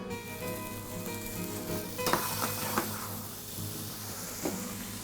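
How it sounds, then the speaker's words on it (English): Boiled beetroot going into a hot glazing pan used earlier for carrots, giving a strong continuous sizzle with a few sharp clinks and scrapes of utensil against pan, close and without talk. "I'm going to glaze my beetroots. And now in with our beetroot."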